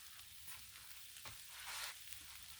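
Smoked sausage and vegetables sizzle steadily on a hot griddle, a continuous close crackling fry with a brief louder hiss swelling midway, no voices.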